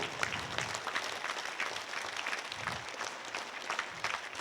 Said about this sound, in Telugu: పిరమిడ్ మాస్టర్లు అందరికీ చప్పట్లు.